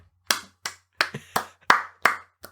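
Seven sharp hand claps ring out alone in an uneven rhythm, close and fairly loud, each a crisp slap with a short decay and silence between them.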